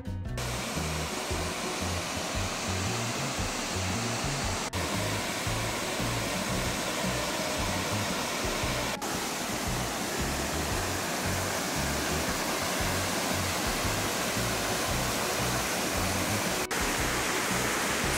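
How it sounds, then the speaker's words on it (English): Constant loud rushing water roars without a break, a dense, steady wash of falling water close by at a jungle waterfall near Cape Hedo, Okinawa, Japan. "So nobody speaks about this waterfall."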